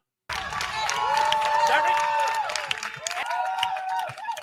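A studio audience at a talk show sit-down breaks into cheering and applause, a loud sustained crowd roar with whoops and shouts that rises suddenly and stays strong before easing slightly.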